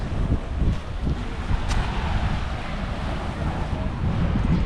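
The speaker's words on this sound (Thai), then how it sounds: "อันนี้ทะเลระยอง" Wind and sea waves on Rayong beach in Thailand in the late afternoon: a steady, loud roar of wind buffeting the microphone over a constant wash of surf, with no clear voices.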